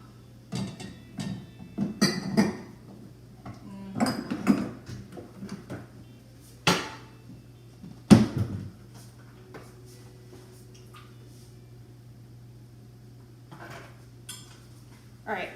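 Kitchen clatter as a pan and oil are fetched: scattered metallic knocks, clinks and a few sharp bangs of cookware and cupboards, spaced irregularly over a low steady hum.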